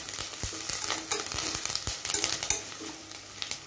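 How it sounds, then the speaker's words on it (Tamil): Curry leaves sizzling in hot oil with softened onions and green chillies for an egg and crab meat bhurji, a steady close crackle broken by scraping stirs in the pan. "இப்போ கறி லீவ்ஸ் கொஞ்சம் சேர்த்துக்கலாம்."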